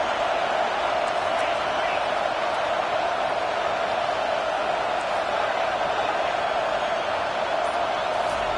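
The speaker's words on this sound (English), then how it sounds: "It's early, but this crowd is fired up. Listen to this noise here." Early-game crowd noise fills an American football stadium, a steady, dense roar of cheering that holds at a constant level throughout with no pauses.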